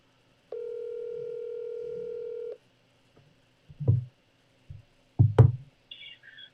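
A telephone call gives a steady dial tone for about two seconds, followed by scattered soft clicks and knocks and a brief high tone before voicemail picks up.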